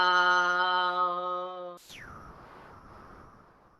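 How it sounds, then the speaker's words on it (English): A single sustained vocal tone of Om is sung on the exhale, steady and rich for nearly two seconds, then cut off and followed by a soft, fading breathy hiss. "can make a tone on our exhale, which is a sound of Om."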